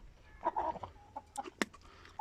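A rooster clucks in a few short, scattered bursts, fairly quiet, with a sharper cluck near the end and faint background noise.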